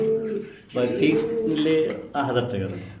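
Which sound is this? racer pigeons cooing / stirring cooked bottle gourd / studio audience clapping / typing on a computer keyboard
racer pigeons cooing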